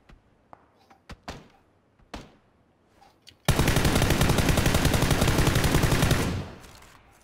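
Sustained burst of rapid gunfire in a shooter video game, loud and continuous for about three seconds, preceded by scattered single thuds and distant shots, then fading out.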